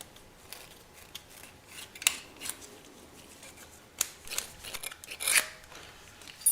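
Scraping on an aluminum surface during work on a Honda Sabre cafe racer build, a soft rasping scratch repeated in short irregular strokes, fairly close and quiet with a few louder passes.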